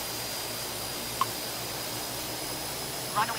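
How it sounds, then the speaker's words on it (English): Jet engine roar of an airliner taking off in the Tower Simulator 3 game: a steady, even broadband rush with a couple of brief faint blips. "Delay Air 610, wind is calm, runway 18, clear for takeoff"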